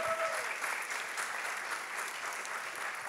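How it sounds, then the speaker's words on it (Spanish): Steady applause from a concert audience at a music school's year-end show, honoring a teacher, with dense even clapping held at a moderate, constant level throughout. "le damos un aplauso."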